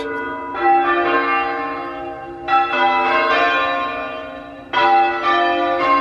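Church bells are rung in a test, with loud, ringing strikes arriving in three overlapping waves, each sustaining a rich, droning tone that fades slowly before the next peal.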